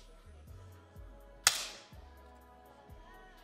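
One sharp, crisp crack from a 10m air pistol fired in a men's semifinal at an ISSF shooting competition, standing alone against a quiet hall with faint low background thuds.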